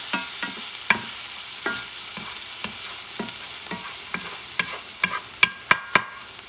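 Chopped garlic fries in a pan for spaghetti with minced meat, a soft steady sizzle punctuated by regular utensil taps and scrapes that become louder and clinkier near the end.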